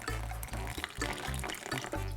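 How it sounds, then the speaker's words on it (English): Water poured into fermented dosa batter for a vegan masala dosa, a steady liquid splash and trickle running in short repeated pulses, close and fairly loud with no talking. "add some salt and a little bit of water just to thin out the batter"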